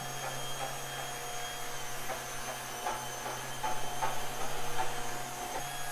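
A Shark Steam and Scrub S7001 steam mop runs with a steady mechanical hum and faint whir, with a few soft scrubbing swishes as the head turns and swivels across the floor.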